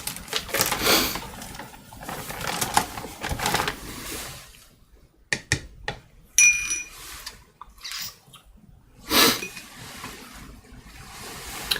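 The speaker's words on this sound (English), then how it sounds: "The printer is carving the blocks." A printer machine carving woodblocks gives off irregular mechanical whirring, clicking and scraping bursts, with quiet gaps and a few sharp clinks between busier stretches.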